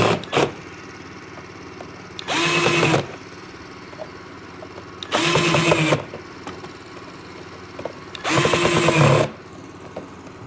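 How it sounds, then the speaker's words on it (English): A power drill whirs in three separate bursts of about a second each, driving screws, with quiet pauses and light handling noises between them. "we're gonna go ahead and just drill them in here real quick"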